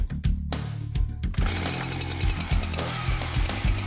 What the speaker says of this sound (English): the fastest, most effective tool is the fire rescue chainsaw